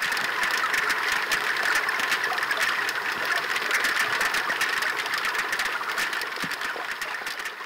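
Snapping shrimp heard underwater as a dense, continuous crackle of tiny sharp clicks, steady and fairly loud throughout with no voices.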